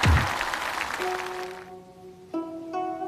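A studio audience applauds to welcome a stand-up comedian from Shandong onto the stage: a dense burst of clapping that fades within about a second and a half as sustained musical tones take over.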